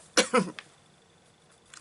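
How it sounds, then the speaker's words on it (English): Two harsh coughs in quick succession, close and fairly loud, then quiet with a faint breathy sound near the end. "cough."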